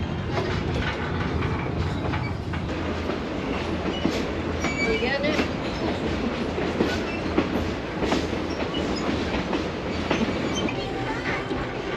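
Steady rattling rumble of the Niles Canyon Train of Lights rolling along the tracks, continuous and close, with occasional metallic clicks and a brief voice speaking over it.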